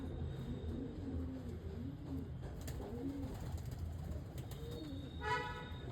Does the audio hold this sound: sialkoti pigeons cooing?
yes